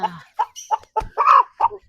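A chicken clucks up close in a short run of choppy, nasal bursts, one drawn-out squawk in the middle, loud and clear with no voices.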